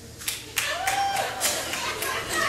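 Audience at a comedy show breaking into a short round of clapping, a burst of loud hand claps filling the room, with some crowd voices mixed in.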